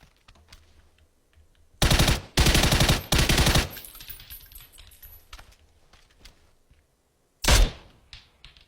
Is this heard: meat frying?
no